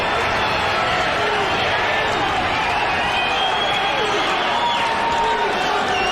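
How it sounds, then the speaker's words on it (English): Spectators at a UFC fight roar continuously, a loud dense arena wash of cheering and yelling with scattered whistles cutting through, building with excitement. "Listen to this crowd."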